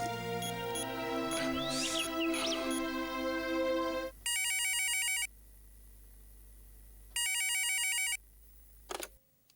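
A telephone rings twice during a call, two clear bursts of a bright electronic ringtone separated by a pause, following a stretch of sustained musical tones and ending with a short click.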